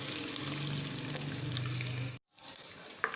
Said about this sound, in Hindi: इसको थोड़ी देर फ्राई करेंगे, साथ ही इसमें स्पाइसेस डाल देंगे।